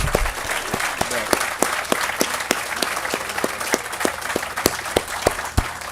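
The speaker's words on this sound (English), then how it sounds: "We have another round of applause for all of our speakers today." A crowd applauds steadily, with many distinct hand claps ringing out through the dense, continuous clapping.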